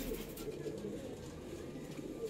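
A pair of breeding pigeons, a male and a female, coo softly and continuously while held close in someone's hands, a low steady murmur.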